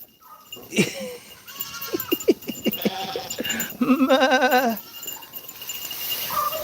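Several loud, wavering bleats from nearby sheep, one long quavering call standing out, with quieter background noise between them.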